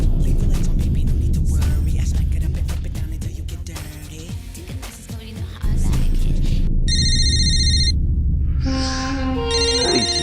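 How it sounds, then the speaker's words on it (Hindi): A telephone ringtone rises loud in the second half, with bursts of repeated electronic tones following a stretch of background noise. "फोन पे फोन करे जा रही है।"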